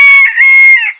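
A bantam cockerel crows loudly and close in a single short, high, harmonic call about a second long, alone and with no voices.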